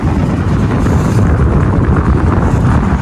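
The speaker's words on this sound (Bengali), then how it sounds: "নৌকা দিয়ে ঘুরছি।" Boat ride on the Meghna river, with loud, steady wind rumble battering the microphone and a low droning engine-like hum throughout, no voices.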